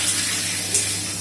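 Water from a bore well, pushed by a compressor, gushes strongly out of a storage tank, a loud continuous rushing splash with a low steady hum beneath.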